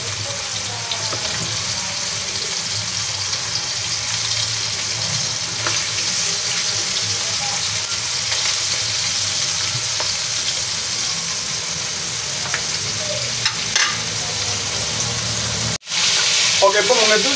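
Chicken pieces frying in hot oil for a ham and chicken casserole, a dense constant sizzle and crackle close by that runs throughout, with a brief knock near the end and no speech over it.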